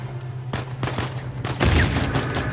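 Rapid pistol shots ring out in an Uncharted 4 online multiplayer team deathmatch in a village, several sharp cracks in quick succession followed by a louder, denser burst of gunfire and a rumbling low thud.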